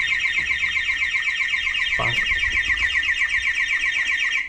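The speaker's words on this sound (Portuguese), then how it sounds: "É, tem alarme nessa vanzinha." A van alarm on a motorhome blares continuously, a loud rapid warbling electronic tone holding steady throughout, with a brief thump partway through.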